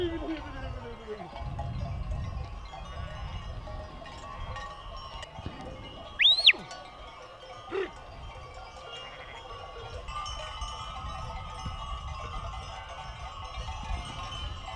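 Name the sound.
sheep flock with bells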